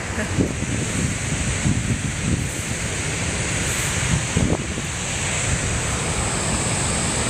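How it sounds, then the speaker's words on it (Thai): Waterfall water at Verdal, Norway rushes in a steady, broad hiss, with outdoor wind noise buffeting the microphone in brief gusts. "น้ำไหลไปตามทางเลย"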